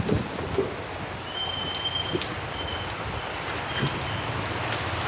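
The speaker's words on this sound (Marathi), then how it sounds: "झाला असं म्हणजे वारं येत असल्याने पाऊस येतोय" Steady rain falls outdoors in windy weather, a continuous close patter of drops on surfaces with scattered louder splashes and a faint high tone partway through.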